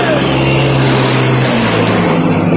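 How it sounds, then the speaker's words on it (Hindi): Heavy storm rain with passing traffic on a street, a dense, loud, steady wash with a low engine rumble running underneath throughout. "ये कुछ बारिश का शोर है और कुछ ये गाड़ियों का शोर है।"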